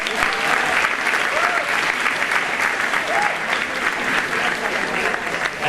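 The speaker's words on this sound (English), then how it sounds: "So a round of applause for that." A crowd at a high school varsity sports awards ceremony claps loudly and continuously, a thick, sustained roar of hands with a few faint voices mixed in.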